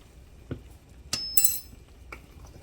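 A metal teaspoon clinks sharply against a pot or jar a few times while cinnamon goes into homemade pear preserves, with bright isolated taps over a quiet background.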